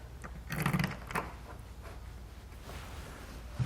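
Screws are run down into a plastic third brake light camera housing, reinstalling the light assembly on a truck: soft, faint mechanical clicking and ratcheting in short bursts with quiet handling noise, no talking.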